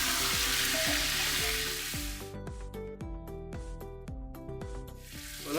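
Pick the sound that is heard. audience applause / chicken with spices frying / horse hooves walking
chicken with spices frying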